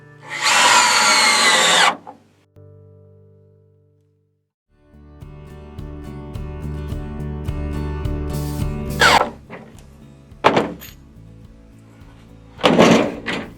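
A power drill drives screws into 2x6 boards in several loud bursts, each winding up with a whirring motor and the pitch dropping as a screw seats, with short pauses and a knock between runs.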